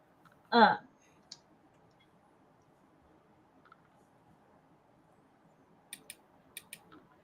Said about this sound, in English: the first thing I do when I start this game is just dump all my dice all over my desk